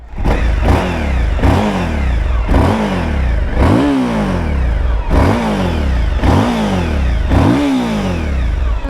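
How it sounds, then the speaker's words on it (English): A Suzuki DL1050 V-Strom V-twin motorcycle engine with a big Euro 5 exhaust revs repeatedly in a steady rhythm, each throaty burst of throttle rising and falling about once a second, loud and close. "Let's have a little listen to that V-twin in all its glory."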